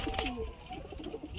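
Young pigeons kept at a home loft coo softly and intermittently, the murmuring calls fairly faint against a steady background.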